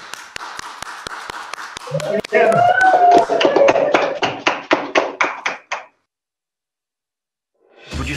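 Applause for first-place winners at a world competition: sparse claps build into loud, rapid clapping mixed with voices, then stop abruptly into silence before another sound begins.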